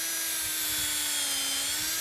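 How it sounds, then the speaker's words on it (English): A drill pre-drilling screw holes gives a steady, close, high-pitched whine that holds evenly for two seconds, with no voices. "Pre-drill, and this even leaves a little countersink"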